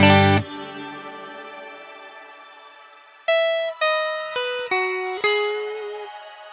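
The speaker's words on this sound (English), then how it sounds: "All right, the shimmer." Electric guitar through a Line 6 HX shimmer reverb on its stock setting: a loud chord rings out and fades into a long shimmering tail, then five single picked notes follow, each blooming into bright, sustained octave-up reverb.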